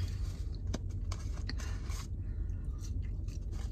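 Close chewing of fries in a car, with soft crunchy bites and wet mouth sounds repeating irregularly over a steady low background rumble.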